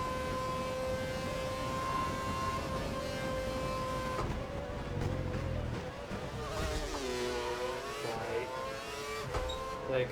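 A Toro Rosso Formula 1 car in F1 2012 at the Japanese Grand Prix, its high engine whine sustained and then shifting pitch as it passes, with another car's tone weaving underneath.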